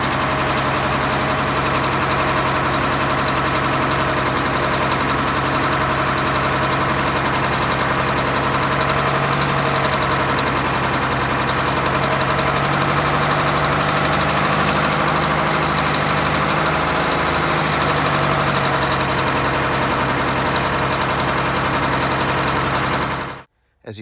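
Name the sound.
Detroit Diesel 8V92 engine idling unevenly in MCI bus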